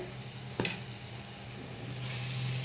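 Potatoes poured into a pan where tomato has cooked down in hot oil, a sharp clatter followed by a steady close sizzle and the scrape of stirring for a vegetarian curry.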